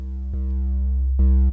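A sine tone is pushed through Camel Crusher tube overdrive distortion, making a loud, steady, buzzy harmonic drone that jumps abruptly in pitch twice, the second step landing near the end.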